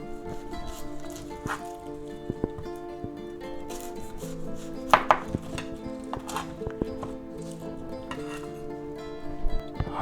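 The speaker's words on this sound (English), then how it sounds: "let's slice our onion" An onion is sliced with a knife on a cutting board: irregular close knife taps and scrapes, with a louder cluster near the middle, over a steady tonal background.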